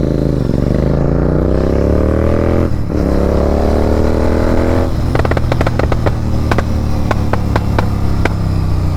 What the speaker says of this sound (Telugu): చూడండి, ఒక 240cc బైక్ నడుపుతున్నాను నేను.